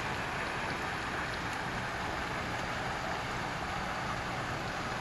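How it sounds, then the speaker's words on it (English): Steady rain falls continuously in Albuquerque, a soft even hiss of drops with no breaks and no voices. "It's supposed to rain all day today."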